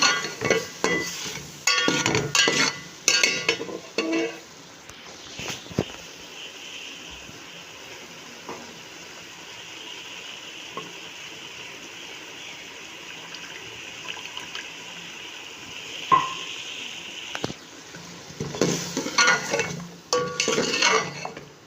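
Beef curry being stirred and fried in a home kitchen pot, with clattering spoon-on-pan scrapes and clinks in bursts at the start and end, a steady soft hiss of cooking in between.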